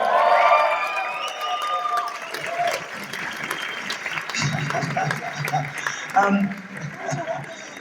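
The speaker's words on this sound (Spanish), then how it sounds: "¡Ey, un aplauso, por favor!" A convention crowd at a comic and pop-culture event in Mexico bursts into applause and cheering for an actor's talk, with dense clapping and whoops rising and then thinning. A few voices and shouts mix into the noise.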